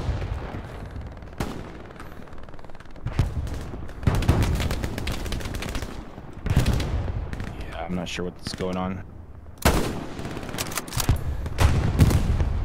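Gunfire crackles through a Hell Let Loose match, with repeated sharp shots and bursts of rapid fire, some near and loud, others distant, mixed with players talking over it.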